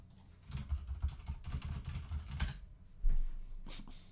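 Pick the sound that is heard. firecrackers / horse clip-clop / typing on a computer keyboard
typing on a computer keyboard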